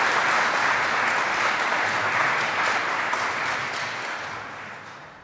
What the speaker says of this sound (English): I think it's time for you to have to give them an applause and welcome them